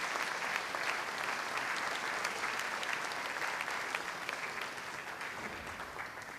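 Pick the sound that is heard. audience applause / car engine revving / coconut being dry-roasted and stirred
audience applause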